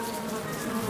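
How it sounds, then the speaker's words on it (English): Cartoon bees buzzing, a steady, continuous drone that holds at an even loudness for about a second with no talk over it. "The bees!"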